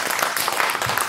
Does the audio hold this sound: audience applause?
yes